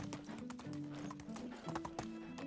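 Donkey hooves clip-clop in a steady walking rhythm across the ground in the video game Medieval Dynasty, close and fairly loud, with a faint low game ambience underneath.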